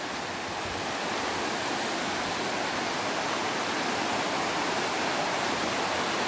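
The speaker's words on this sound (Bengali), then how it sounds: "এখন যেহেতু বর্ষাকাল, তাই জলটা পড়ছে প্রবল বেগে" Dev Kund waterfall in Odisha roars in monsoon flood, water crashing down forcefully in a dense, unbroken rush that stays loud and steady throughout.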